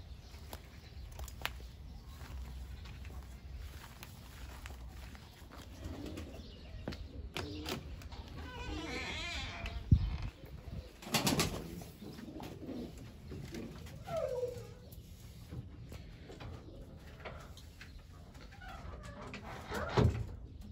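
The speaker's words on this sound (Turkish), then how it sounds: "kümesimizdeki kuşlar burada" Pigeons cooing softly in a coop, with low murmuring calls and a brief flutter or shuffle now and then, steady and fairly quiet throughout.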